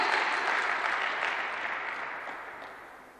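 Church congregation clapping together during a sermon, a dense wash of applause that starts full and gradually fades away.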